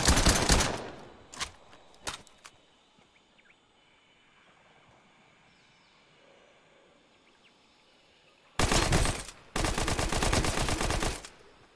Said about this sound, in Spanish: Headshot con el subfusil.